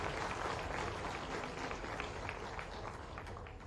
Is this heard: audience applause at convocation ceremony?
yes